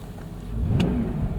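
2000 BMW 740i M-Sport sedan with a 4.4-litre engine being driven, a soft steady engine hum and road rumble from inside the cabin with a brief higher whoosh partway through.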